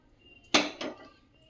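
Cooked chana dal puran is pressed through a metal sieve, giving two short close metallic scrapes and clinks against a quiet background.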